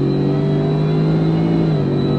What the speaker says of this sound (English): You're getting that supercharger whine.